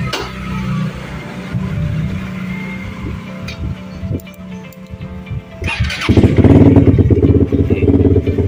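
Suzuki GSX 150R motorcycle cranks with a clattering starter, then catches and settles into a close, steady idle that grows louder toward the end, with no talking.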